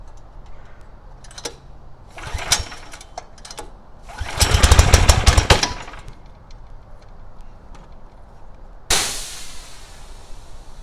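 A new Simpson gas pressure washer, with the choke on, gives a few faint pull-start clicks and a brief sputtering burst. After a pause, the engine suddenly roars to life close by.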